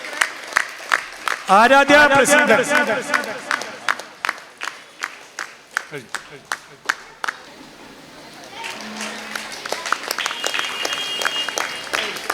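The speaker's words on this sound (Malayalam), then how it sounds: "എല്ലാരും ഒന്ന് ആവേശം കൈയടിക്കണേ" An audience at a residents' association Onam celebration breaks into applause after a scholarship winner is named, a burst of many claps that thins into scattered ones. A presenter speaks before and between them, with chatter and a cheer mixed in.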